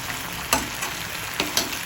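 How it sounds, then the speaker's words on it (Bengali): Ginger paste frying in a pan with a splash of water for an eggplant yogurt curry, a steady close sizzle broken by a few sharp spatters and stirring scrapes. "আদা বাটাটা ভাজা ভাজা হয়ে গেছে।"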